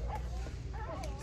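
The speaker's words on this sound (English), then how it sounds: "small puppy" A small puppy in a Target store gives a few quick, high-pitched yips and whimpers, soft and brief over a low background hum.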